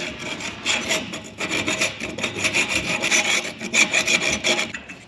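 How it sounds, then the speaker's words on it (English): A metal hand file rasps back and forth inside a pin hole on farm equipment being repaired, a steady run of close, scratchy strokes with no talking. "I'm gonna ream it out with this file right here where the pin will slide in and out good again"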